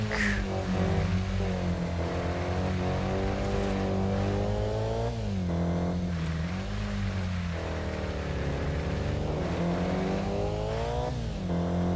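Mazda race car engine in the Kaido Racer video game, a loud continuous engine drone whose pitch rises and falls through acceleration and gear changes, with brief tire squeal, no voices.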